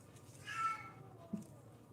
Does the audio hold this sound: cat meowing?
yes